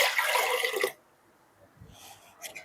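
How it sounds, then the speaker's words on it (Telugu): Water poured over soaked tamarind pulp in a bowl, a short close splashing gush lasting about a second, then near silence with a few soft clinks. "ఈ పిప్పి తీసేసి వాటర్ వేసుకోవాలి"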